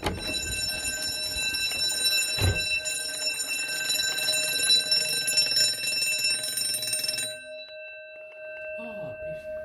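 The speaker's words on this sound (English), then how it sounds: "we've got the alarm going off on the alarm panel" A ship's engine-room fire detection system sets off alarm bells that ring loudly and continuously, with a steady electronic tone, then stop abruptly, leaving a faint hum and a brief voice.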